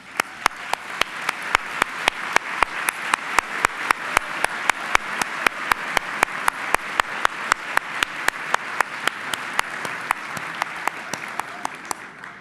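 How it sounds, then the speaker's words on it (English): Audience applause at a State of Downtown 2020 event for sponsor partners and table hosts, steady clapping from a seated crowd with one close pair of hands striking in an even, rhythmic beat throughout. "I'd like to have a round of applause for all our sponsor partners and our table hosts"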